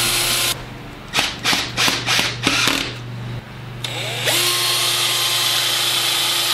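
A power drill drives screws into a large wooden bowl blank for lathe turning, sounding as a series of about six short rhythmic bursts, then a longer steady whirring run near the end.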